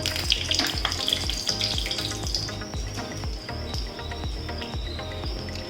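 Oil sizzles and crackles steadily as chicken cheese balls fry, with a repeated rhythmic clatter of stirring and a faint high whine running underneath.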